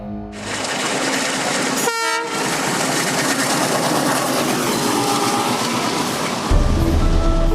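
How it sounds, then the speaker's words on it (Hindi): Loud passenger train travelling with a continuous heavy rumble and rolling rail noise throughout, a short horn-like tonal blast around the second mark and a deeper surge of wheel noise near the end. "मैंने ही जिद की थी ट्रेन से चलने के लिए।"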